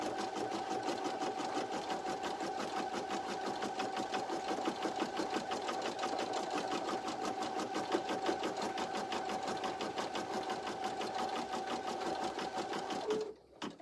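An embroidery sewing machine stitches a notebook cover in the hoop, running with a fast, steady, even needle rhythm and a constant whine for the whole stretch before stopping abruptly.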